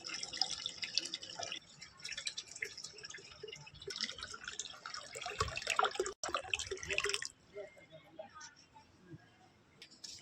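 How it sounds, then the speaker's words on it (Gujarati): Water running from a tap while a household vessel is filled, a steady splashing and dripping wash over the first seven seconds, then quieter trickling, with voices talking over it. "વાસણ ધોવાઈ જાય હવે પાણી ભરી લઉં"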